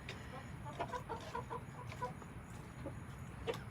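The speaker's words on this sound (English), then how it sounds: "What are you feeding the chickens? Oh, so, I've got mealworms." Chickens cluck and chatter steadily while being fed mealworms, a busy cluster of short, close calls repeating throughout with a faint crow-like note near the end.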